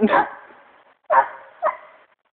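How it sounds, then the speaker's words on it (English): A hound barks during a night coon hunt: a few sharp, spaced barks at moderate distance, with a voice calling out near the start. "he's finally barking"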